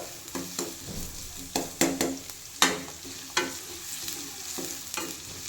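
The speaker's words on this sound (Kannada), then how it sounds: "ಇವಾಗ ಇದನ್ನು ನೀಟಾಗಿ ಚೆನ್ನಾಗಿ ಫ್ರೈ ಮಾಡ್ಕೋಬೇಕು ಈರುಳ್ಳಿನ" Onions stir-fry in a hot pan with a soft sizzle, broken by irregular scraping and clattering strokes of a utensil against the pan.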